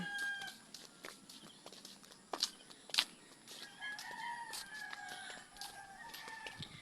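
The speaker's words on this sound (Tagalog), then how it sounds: "ingay ng mga manok." Chickens cluck while a rooster crows, with several sharp calls rising over a busy farmyard chorus, and nobody speaks.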